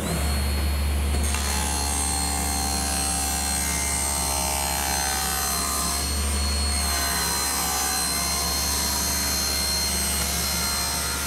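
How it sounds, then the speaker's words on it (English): A power saw rips a piece of wooden decking lengthwise into thin splines about one inch wide and a quarter inch thick, giving a loud, steady whining roar that runs continuously throughout, with a brief surge near the start and again midway. "I'll rip those out of a piece of decking, 1 inch wide and 1/4 inch thick."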